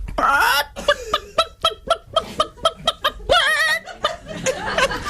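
A person imitates a hen with a run of rhythmic clucks and squawks, loud and close, ending in a drawn-out cackle.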